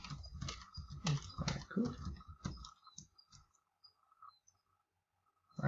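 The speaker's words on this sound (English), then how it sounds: "now I'm typing it in" A computer keyboard is typed on in quick bursts of close, crisp clicks that are mixed with a person speaking, then the keys fall silent and only a few faint ticks remain.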